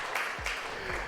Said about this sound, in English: Applaud that.